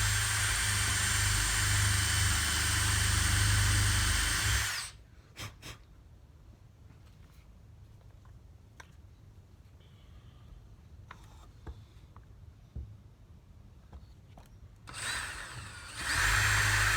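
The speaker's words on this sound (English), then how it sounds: "now we're going to drill the holes on either side of the legs there in order to put a screw in on either side" A power drill bores holes into the wooden legs of a homemade board, a loud steady whine for about five seconds, then near silence with small clicks before the drill starts again near the end.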